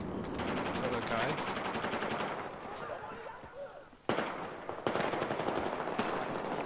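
MTAR assault rifle fire in a shooter game, rapid automatic bursts crackling in close, loud sequences, broken by a short lull before resuming with sharp shots, while players talk over it.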